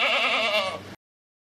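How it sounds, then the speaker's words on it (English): A goat gives a single loud, wavering bleat lasting under a second, close and alone, fading slightly at the end before cutting off. "Goat."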